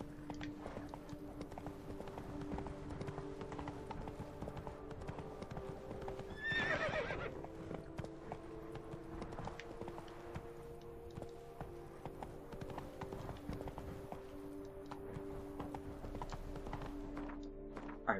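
Rhythmic clip-clop of Geralt's armored horse Roach galloping in The Witcher 3: Blood & Wine, hoofbeats pounding continuously throughout with a sharp whinny near the middle.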